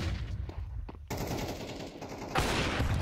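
Gunfire from a Counter-Strike esports match between professional teams, with bursts of shots and a sharp, loud volley near the end over a dense game soundscape.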